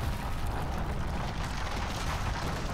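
Heavy rumbling crashes of boulders tumbling down in a combat video game, a dense continuous low roar with bursts throughout, loud and without pause.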